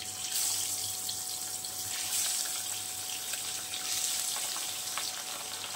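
Pabda fish dropped into hot oil for a Bengali jhal pabda, a loud continuous sizzle and crackle with bursts of spattering, close up and without talk.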